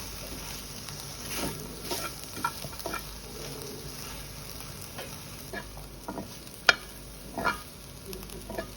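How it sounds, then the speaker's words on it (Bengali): Coriander leaves stirred into a pan with softened onion stalks and garlic: quiet, scattered spoon scrapes and soft rustles over a faint low sizzle, with a few sharper clinks near the end. "ধনিয়া পাতা দিয়ে কিছুক্ষণ নেড়ে চেড়ে"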